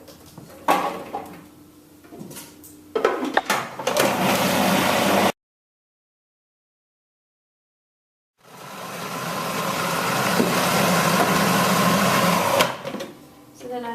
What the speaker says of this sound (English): And that just goes into the food processor.